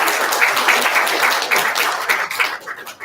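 Summit audience applauding steadily throughout, dense clapping from a crowd indoors that fades slightly toward the end.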